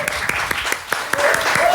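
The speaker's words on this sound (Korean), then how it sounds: "네, 뜨겁게 박수해 주세요." A church congregation claps in warm applause, a dense patter of many hands at moderate distance, with a voice briefly heard over it.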